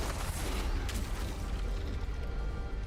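Explosions in the video game The Last Spell: a dense, rumbling barrage of booms and sharp bursts with clattering mechanical noise, sustained and loud across the whole stretch.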